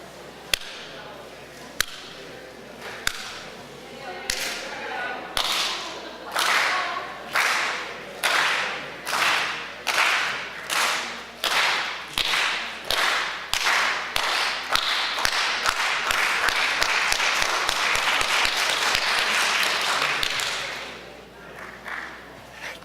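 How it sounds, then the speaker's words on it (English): An audience slowly claps in unison at an anti-war conference, sharp claps spaced about a second apart that gradually speed up and build into sustained loud applause before fading out. "Thank you for joining me in a half-hearted attempt of the mythical slow clap."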